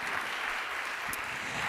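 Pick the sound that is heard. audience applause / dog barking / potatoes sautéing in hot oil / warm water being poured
audience applause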